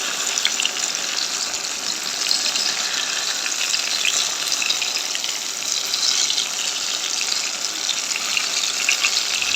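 Banana fritters (bajji) frying in hot oil, a steady dense sizzle and crackle that holds throughout, close and fairly loud with no talking.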